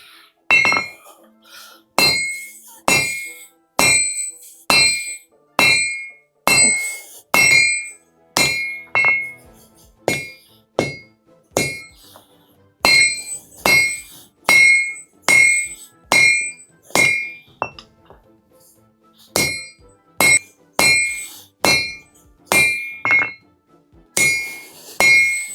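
A 5.5 kg sledgehammer forges steel while a pipe wrench is reshaped into an axe and knives. Loud, ringing metallic blows land in steady rhythmic bursts, separated by short pauses.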